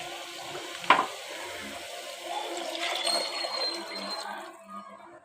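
Water streams and splashes steadily into a cooking pot for several seconds after a sharp clink, with no voices.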